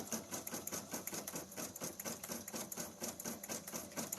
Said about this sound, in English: It's a sewing and embroidery combo.